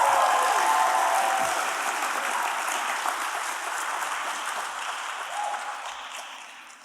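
Audience at the ERA Awards 2022 ceremony giving a round of applause, dense continuous clapping that starts strong and gradually fades over several seconds, with no talk over it.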